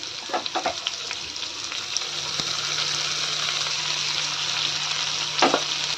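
Cabbage fries in a pan with asafoetida and turmeric, giving a steady bright sizzle with a few stirring clatters near the start and another near the end.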